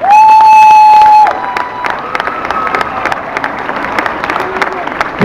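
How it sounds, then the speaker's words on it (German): Applause and cheering from the crowd at a water stunt show in a holiday park, following a sustained whistle-like tone, then continuing as a dense, steady patter of clapping mixed with voices. "begrüßen wir mit einem riesengroßen Applaus die Freiwilligen aus eurer Mitte"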